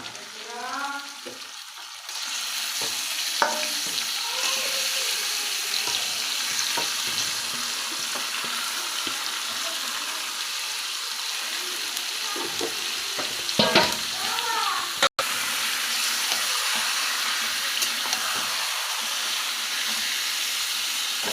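Mutton sizzling in oil with fried onions, a loud continuous frying hiss with occasional stirring scrapes, sustained close throughout.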